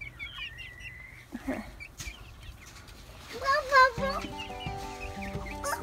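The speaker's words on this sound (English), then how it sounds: "What's a chicken say?" Farm chickens cluck in short bursts near a family's camp trailer, with faint voices in the background and a brief run of louder clucking partway through.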